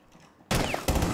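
Gunfire in the tactical shooter game Rainbow Six Siege: after a quiet stretch, two loud, sharp shot bursts hit close together near the end, with no speech over them.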